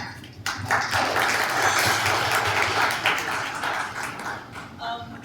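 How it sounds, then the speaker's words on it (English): A crowd at a book launch event in a club claps warmly and densely, swelling quickly and tapering toward the end, with a few voices murmuring underneath. "Another round of applause, please."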